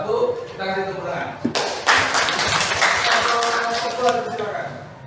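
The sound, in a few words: audience applause for group 1's presentation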